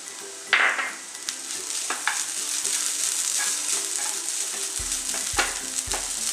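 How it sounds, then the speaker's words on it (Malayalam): Slices of ripe banana fry in a pan with a steady hiss and sizzle, broken by a few scraping stirs and clinks of a utensil, loud and close with no talk. "നമ്മുടെ ഏത്തപ്പഴം നല്ല രീതിക്ക് പൊരിഞ്ഞ് വന്നിട്ടുണ്ട്, ഫ്രൈ ആയി വന്നിട്ടുണ്ട്"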